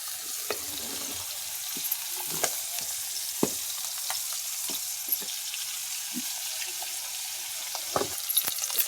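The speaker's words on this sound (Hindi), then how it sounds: "अभी मछली चूड़ा थे" Fish frying in oil in a kadhai gives a steady close-up sizzle, with scattered sharp pops and crackles through the whole stretch and no talk.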